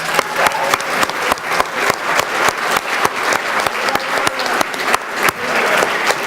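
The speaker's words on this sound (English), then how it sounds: "Let's give them all a huge round of applause." A crowd at a business book awards ceremony claps steadily for the finalists, loud and continuous with individual hand slaps standing out close by, and little voice beneath.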